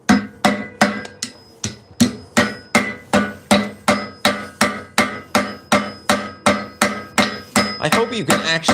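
Repeated ringing hammer blows forging metal claw teeth, about two per second in a steady rhythm, loud and close, each strike decaying with a metallic ring.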